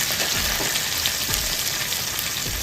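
Onion, curry leaves and green chilli frying in hot oil for egg Manchurian, giving a dense, steady close sizzle with faint crackles throughout.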